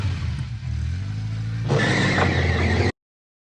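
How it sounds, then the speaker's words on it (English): A car engine idles low, then revs up sharply and holds a louder, brighter drone before cutting off abruptly. "I really like the engine sound."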